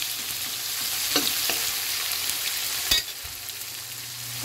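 Vegetables (petchay, okra and sweet potato leaves) sauté in a pan with a steady, close sizzle, occasional spatula scrapes and a sharp clatter partway through.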